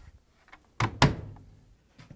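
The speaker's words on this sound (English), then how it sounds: "You can close the door now." The door of a Samsung washing machine is swung shut during a shock absorber repair, two close heavy thumps, the second louder, with a short fading rattle after.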